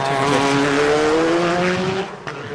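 A race car under load through a corner at a street sprint in Christchurch, engine loud and close with a steady rising-then-falling tone, a faint tyre squeal, easing off near the end.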